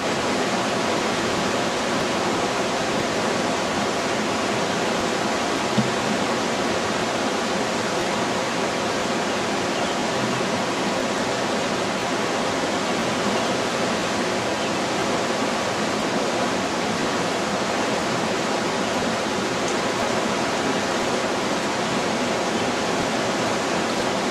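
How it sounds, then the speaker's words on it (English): Steady rushing water fills the whole stretch as concentrates are rinsed from a bucket into a gold pan beside Cache Creek, a constant broadband wash with no breaks and no voices. "rinsing out the last of the concentrates out of the bucket in his gold pan"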